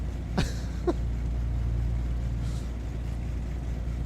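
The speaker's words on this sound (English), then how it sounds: "does the engine sound like it's running a little rough to you?" Steady low drone of a Beech Duke aircraft engine running somewhat rough, heard from inside the cockpit as a continuous hum with two brief sharp squeaks early on.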